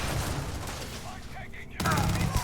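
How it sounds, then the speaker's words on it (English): An energy gun fires in a video game as a burst of rapid shots. The shots thin out briefly, then return louder and denser near the end, with some talk mixed in. "Oh, this is like an energy gun."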